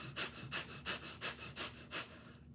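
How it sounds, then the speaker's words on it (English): Breath of fire: seven quick, rhythmic forceful exhales through the nose, evenly spaced and close, then a short stop. "I love breath of fire."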